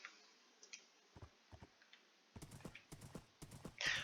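Hoofbeats of a Minecraft horse running: a soft, sparse start, then a fast, rhythmic run of close, crisp clip-clops in the second half.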